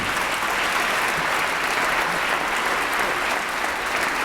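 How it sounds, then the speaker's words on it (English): A chamber audience gives a sustained round of applause for the Dalai Lama, a dense, even roar of many hands clapping at steady loudness and with no speech over it. "Please join me in another round of applause"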